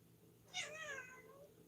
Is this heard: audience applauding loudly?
no